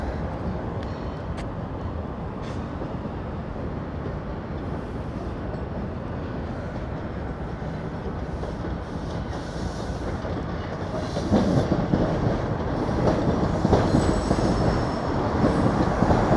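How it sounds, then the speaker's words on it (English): A Toronto TTC subway train near Kipling rumbles steadily along the track, a continuous loud roar with faint clatter and a brief wheel squeal, growing slightly louder near the end. "An unmistakable sound of a TTC subway train making its way along the line."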